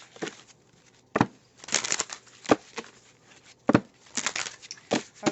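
Crystal oracle cards are shuffled by hand in a series of close, crisp riffling bursts with short pauses between them, fairly loud and heard alone.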